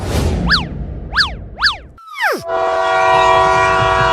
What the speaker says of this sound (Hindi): देखो चिंटू, ट्रेन चलने लगी।